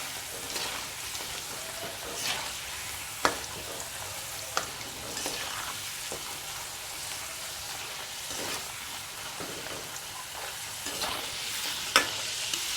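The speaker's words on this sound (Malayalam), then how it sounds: "ഇളക്കി കൊടുക്കാം." Cassava chips frying in hot oil give a continuous soft sizzle, broken by occasional clicks and scrapes as the pieces are stirred.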